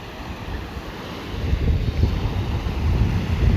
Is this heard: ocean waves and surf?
yes